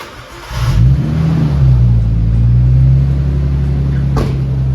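A car engine warms up on a cold morning on the way to a roadhouse, a steady loud idle that rises into a sustained rev and holds, with a brief sharp knock near the end.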